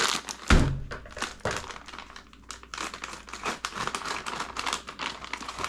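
Plastic Ziploc bag of gold paydirt being handled, crinkling and rustling with a thud near the start, then continuous close crackles.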